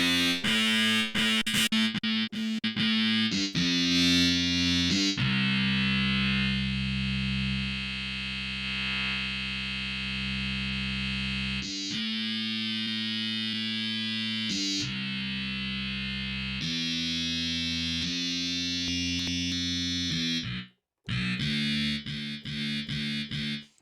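A synth run through the Scream 4 distortion unit in Reason Studios 13.1 gives loud, buzzing, harmonically rich distorted tones: sustained notes and choppy rapid stabs with brief gaps and a sudden drop near the end, with no talk.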